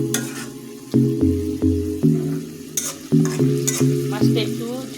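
Small mola fish and onions frying for a chorchori, stirred with repeated scraping strokes that cut sharply through a loud, close sizzle, several strokes in a loose, uneven rhythm.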